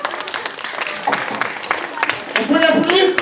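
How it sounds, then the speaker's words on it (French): An audience at an inclusive sports event in Narbonne claps for a child, scattered applause rising toward the end, with a voice speaking over part of it. "On peut l'applaudir quand même, parce que c'est pas évident de dire au micro."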